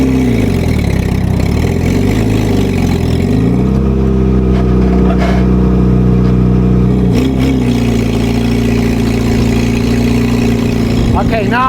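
A WWII Jeep engine runs loud and close, idling and then revving as the gearbox is worked into second gear, its pitch dipping and rising between steady stretches, with someone talking over it.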